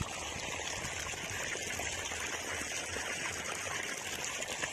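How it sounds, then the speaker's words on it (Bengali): Water from an irrigation pump motor pours steadily into a rice paddy, making a constant broadband rush and gurgle that stays even throughout, close and moderately quiet, with no talk. "মাঠে এসছি ধানে জল দিতে, জমিতে মোটর দিয়ে জমিতে জল দিতে এসছি"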